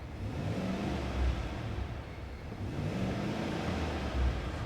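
A Cadillac Escalade V8, a 2024 long-wheelbase luxury SUV, revving repeatedly against its rev limiter, heard from inside the cabin as a steady droning engine with two swells, no talking.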